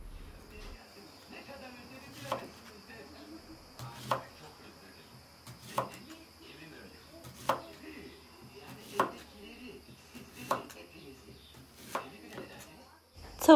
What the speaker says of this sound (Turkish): Şimdi bu şekilde böyle tırtıklı bir kesiciyle kesiyorum.